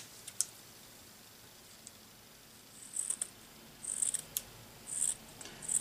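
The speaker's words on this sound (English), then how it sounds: "I just trim off the excess, and then I just snip the folds" Scissors snipping the folds of cheesecloth for a shabby chic flower, a few quick faint snips spaced apart against a quiet background.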